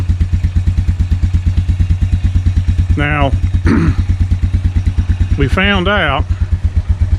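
ATV engine idling unchoked, a loud, close, steady rhythmic putter that runs throughout, with someone talking briefly over it twice.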